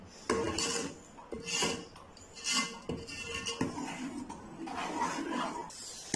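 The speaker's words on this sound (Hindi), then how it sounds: "ये भी मिक्स करेंगे, ये गरम गरम में मिक्स करेंगे" Spoon scraping and stirring against a pot of hot mango rice kheer as fresh cream is mixed in, a steady series of close rasping, clinking strokes with no talk.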